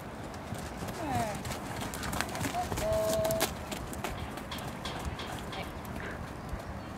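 Hooves clip-clopping from a horse being ridden by a beginner rider, a steady rhythm close by and moderately loud, with a brief whinny-like tone and people talking over it.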